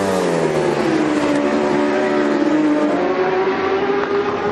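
Aprilia superstock motorcycles in a British Superstock 1000 race scream past at high revs, a steady loud engine whine that bends in pitch as the bikes pass close, with no talk over it.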